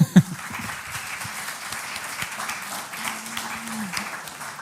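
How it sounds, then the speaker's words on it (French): Audience applause after a conference talk on sustainable development, a sharp clap up front then a steady, moderate patter of clapping sustained throughout, with faint voices underneath. "On peut les applaudir."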